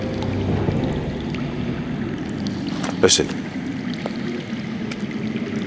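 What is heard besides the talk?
underground water flowing, from the Game of Thrones video game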